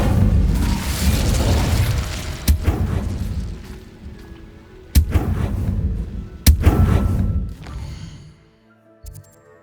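Fire spell effects in the video game Hogwarts Legacy: loud, dense roaring blasts with several sharp booming impacts, rumbling on and off before fading to quieter game sounds.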